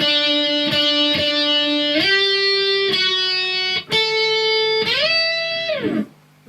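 Overdriven guitar plays a simple song solo, sustained single notes with bends and slides stepping between a few pitches, loud and close.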